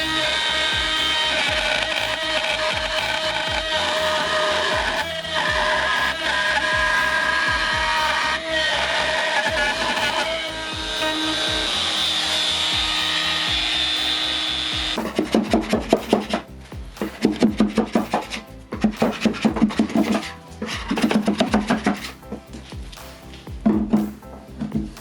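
A wood router cutting a recess into a wooden workbench top for a router plate, a loud continuous rasping whine through the first half, then choppy bursts of cutting as the bit moves through the wood.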